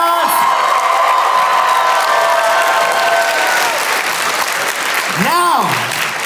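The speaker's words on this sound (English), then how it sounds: "let's give a round of applause for all of our lovely" A convention crowd at a fursuit dance competition applauds and cheers for the dancers, loud sustained clapping mixed with shouts and whoops, one rising cheer standing out near the end.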